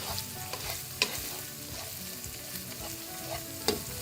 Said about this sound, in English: I'm going to give it a few seconds, maybe up to a minute, for that garlic to cook before we start throwing in the rest of the ingredients